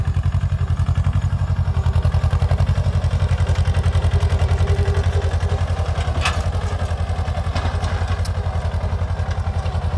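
A mini tractor engine runs steadily, its low rhythmic chugging and clatter holding a constant loud level close by, with a few faint higher ticks and rattles near the end.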